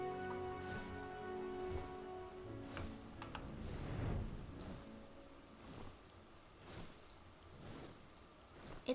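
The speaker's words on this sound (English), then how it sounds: "It's kind of dark and rainy." Rain falling in the video game Final Fantasy XIV, a soft steady patter on surfaces with faint scattered drips and a low rumble swelling midway, no talking.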